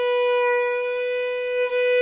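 A violin holds a single sustained B natural, fingered with a normal first finger, as one steady, clear bowed tone lasting about two seconds.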